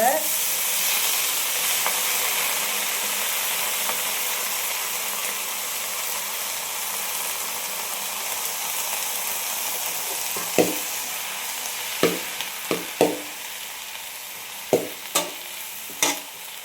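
Manathakkali spinach greens sizzling steadily in a hot pan, a continuous close hiss with a few sharp scraping stirs toward the end, no talk.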